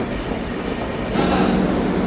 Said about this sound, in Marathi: त्या चढाने रेल्वे जात असल्यामुळे रेल्वेचं स्पीड कमी आहे